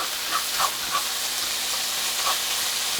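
Potato and chorizo frying in a pan while being stirred, a soft steady sizzle with a few brief scraping stirs, quiet and alone.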